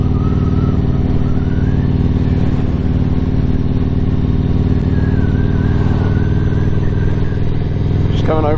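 A Yamaha MT-01 motorcycle on a morning road commute to Taunton, Somerset, its engine holding a steady, loud, rumbling drone with harmonic layers and faint wind roar throughout, briefly rising at the very end.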